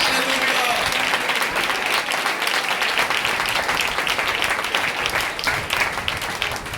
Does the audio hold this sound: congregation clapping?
yes